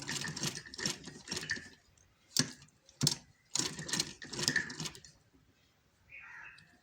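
A sewing machine stitches lehenga fabric in short bursts of rapid mechanical clatter, separated by pauses and a couple of sharp clicks; close and fairly quiet, with no talk.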